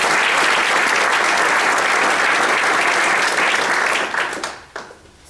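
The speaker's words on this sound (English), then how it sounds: "Let's give another round of applause for the entire panel." A conference audience at a space heritage event applauds a panel, dense, even clapping that holds steady and then tapers off in the final second.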